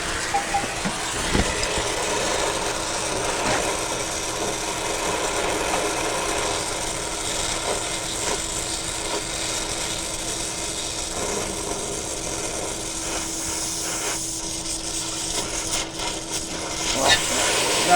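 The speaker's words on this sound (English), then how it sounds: "All right, so I'm gonna go ahead and light my torches." Torches burn with a steady roaring hiss while heating copper tubing on a Sub-Zero refrigerator evaporator, a dense continuous rush with occasional clanks and faint background rumble.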